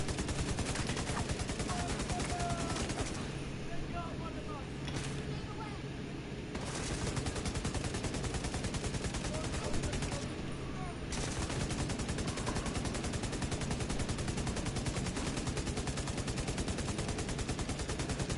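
Rapid, dense gunfire from the Proto Salvo gun in a video game, a continuous loud volley of shots running almost unbroken through the whole stretch with only brief dips.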